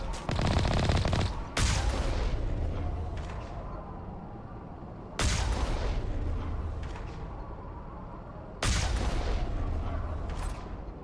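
Sniper gunfire in Mass Effect, with three sharp loud cracks spaced several seconds apart, each trailing into a long rumbling decay.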